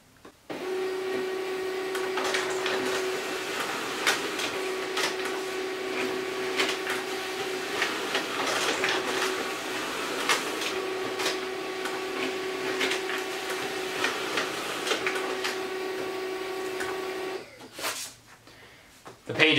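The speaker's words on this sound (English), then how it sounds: "the printer does make a considerable amount of noise" An HP LaserJet M209dwe laser printer prints double-sided pages with a constant mechanical hum and a sustained whine, punctuated by repeated clicks and paper movements, stopping near the end.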